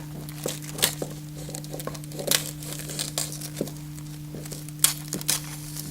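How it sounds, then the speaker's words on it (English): Scissors slide and snip through thin plastic window insulation film, giving scattered crinkly, crackling ticks and rustles over a steady low electrical hum, close and fairly quiet with no talk. "It's pretty easy to just slide the scissors right up through the window."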